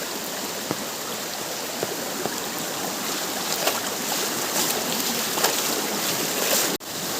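Steady, loud rush of fast-flowing river water swollen by heavy rain, filling the whole stretch, broadband and continuous, with a brief dropout near the end.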